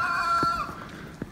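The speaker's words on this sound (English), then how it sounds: "Now this morning we let the chickens loose" Roosters and hens let loose outside in the snow give a short, close crowing call followed by a few soft clucks, all within about a second and a half.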